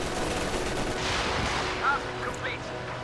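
Artillery barrage in Company of Heroes 2, a wartime strategy game: a steady rumble of gunfire and distant explosions with a brief louder burst near the middle, under faint background game sounds.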